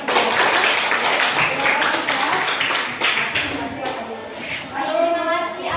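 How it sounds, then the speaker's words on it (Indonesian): Classroom clapping for a student group, a dense patter of hands from a small crowd lasting several seconds, fading slightly toward the end with a voice coming in. "beri tepuk tangan untuk kelompok 2."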